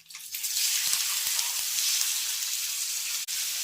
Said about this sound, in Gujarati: વઘારની અંદર રાઈ ફૂટી જાય એટલે આપણે બાઇટ્સને એડ કરીશું